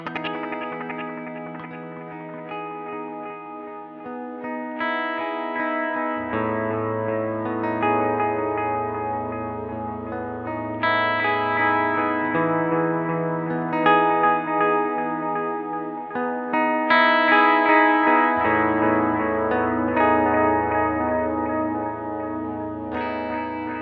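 Electric guitar runs through a Strymon Iridium and a Nemesis Delay pedal, sustained chords and notes ringing with echoing repeats and shimmering chorus-like modulation, a continuous layered wash played alone for about twenty-four seconds.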